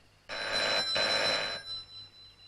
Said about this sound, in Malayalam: ഇത് ഫോൺ അടിക്കുന്ന ശബ്ദമാണ്